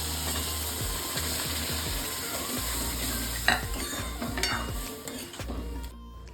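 Dal and colocasia leaf mixture hisses and sizzles steadily in a hot pan while being stirred, with occasional scraping clinks of a spoon against the metal, close and continuous.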